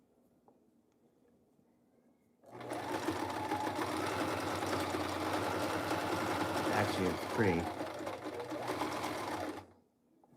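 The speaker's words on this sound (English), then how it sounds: "Singer makes a sweet sewing machine." A basic Singer sewing machine runs at a steady, fast, buzzing clatter for about seven seconds, then stops. A voice talks quietly over the stitching.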